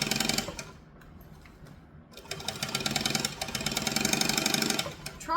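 Sewing machine stitching fabric with a seam sewn forward and then back-stitched, a loud rapid mechanical whirring that runs, dips briefly as the direction changes, then resumes steadily up close.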